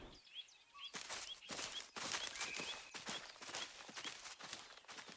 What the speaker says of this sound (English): Can you hear those footsteps?